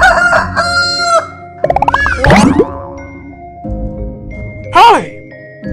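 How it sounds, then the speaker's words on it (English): A rooster crows loudly and close, a rising then falling call, amid playful cartoon boings and chimes. "R is for rooster."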